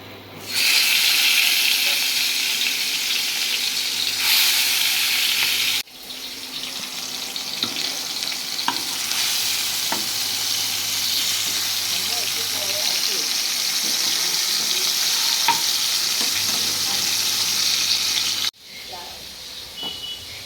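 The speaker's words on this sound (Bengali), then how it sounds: "তেলও গরম হয়ে গেছে মাছটা ভেজে নিয়ে" Fish frying in hot oil in a home kitchen gives a steady, dense sizzling hiss that runs almost throughout, briefly dipping around six seconds and dropping off near the end.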